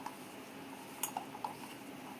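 A metal utensil taps and clinks faintly against a bowl a few times while coated chickpeas are stirred, sparse light clicks over a quiet background.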